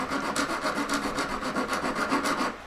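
A hand file sharpens a metal claw on a jewelry ring in quick, rhythmic back-and-forth rasping strokes, about a dozen evenly spaced, close and clear with no talking.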